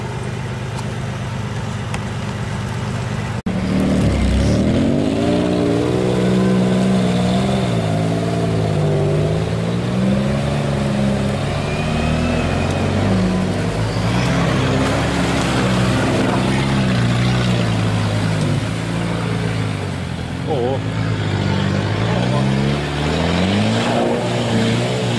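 A UAZ off-road vehicle on 37-inch Bogger tyres drives through a stream, its engine droning loud and close with steady revving and rising and falling pitch, which starts abruptly a few seconds in and carries on throughout.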